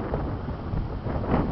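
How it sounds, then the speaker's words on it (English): Wind rushes past the microphone outdoors on a hot, sunny day, a steady low buffeting roar with slight swells. "It's just supposed to be windy like this."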